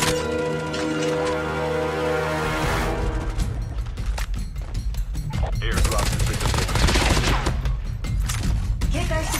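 Switchblade X9 submachine gun firing in a video game, rapid bursts of gunfire running through most of the clip over a dense game soundtrack with music and effects.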